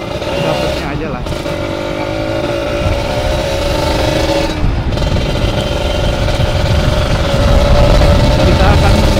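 A Kawasaki Ninja 150RR fitted with a racing exhaust runs loud and close, its engine droning steadily with brief dips and rising slightly toward the end amid wind roar, no speech.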